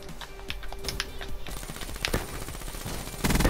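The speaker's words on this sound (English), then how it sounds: "What are these shots, though?" Scattered game gunshots ring out in quick, sharp cracks and short bursts through an online match, some louder, with a denser clatter near the end.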